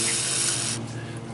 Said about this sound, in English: we're just going to spray them off with some throttle body cleaner